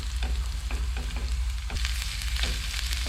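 Chopped ginger frying in hot oil, a dense, continuous close sizzle with light scraping and stirring taps running through it.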